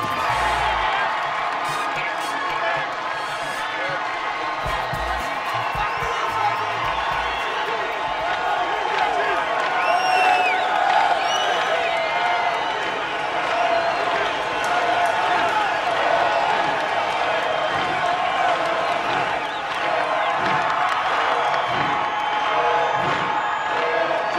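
Baseball stadium crowd at Yankee Stadium, cheering a batter on opening day: a sustained roar with whoops and clapping, steady and loud throughout, with a voice talking over it.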